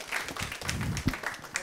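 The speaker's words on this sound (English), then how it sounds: "let's give him a round of applause" An audience at a developer conference gives a short burst of applause, scattered claps heard faintly and at a distance.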